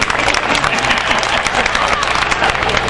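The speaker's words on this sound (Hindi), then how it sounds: "एक बार अपने लिए तालियां बजाइए जोरदार" A crowd at a Hindi poetry recital in Sampla breaks into loud, sustained applause, dense clapping that holds steady throughout.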